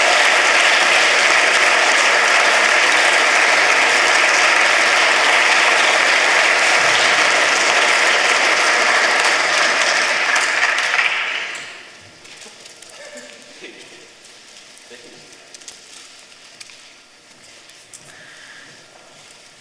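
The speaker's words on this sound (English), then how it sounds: "Give them a round of applause" A large hall audience applauds at a European youth science contest award ceremony, a loud continuous wash of clapping that cuts off abruptly partway, leaving faint room noise and scattered small sounds.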